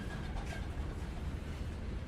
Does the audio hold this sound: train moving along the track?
yes